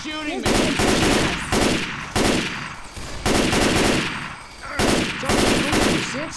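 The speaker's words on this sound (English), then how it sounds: "Can we stop shooting each other?" Rapid bursts of gunfire in the Left 4 Dead 2 co-op zombie shooter, loud and close, firing in repeated volleys with short gaps, with a voice briefly at the start.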